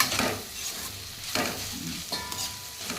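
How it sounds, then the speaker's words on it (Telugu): Soya chunk (meal maker) curry stirred in a frying pan, with a spoon scraping through the thick mixture in slow repeated strokes over a steady sizzle, close and fairly loud. "ఇప్పుడు ఒకసారి కలుపుకోవాలి, అడుగంటుతుందా మరి ఎలా ఉందో చూసుకోవాలి కదా"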